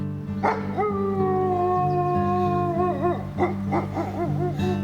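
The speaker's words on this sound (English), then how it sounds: "The howl of the wolf sends shivers of fascination and fear through anyone" A long, wavering wolf howl rises and holds, then breaks into shorter wobbling howls and yips, loud and close over a low steady hum, in Minnesota's Boundary Waters.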